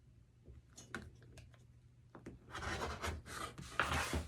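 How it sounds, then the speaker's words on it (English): A rotary cutter trims cork along a stitch line, first as scattered faint clicks and taps, then as a longer run of close, dry, rasping scrapes. "Want to be sure that you're holding your rotary blade vertical so that way you don't get any weird bevels."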